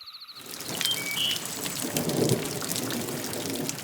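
Steady heavy rain patters on surfaces in a dense, continuous hiss that fills the whole stretch, with faint rumbling low underneath and no voices.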